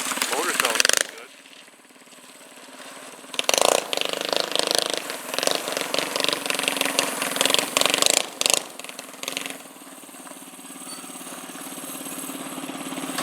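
A go-kart motor runs steadily at close range with a rough, buzzing drone that lasts throughout, and someone talks over it.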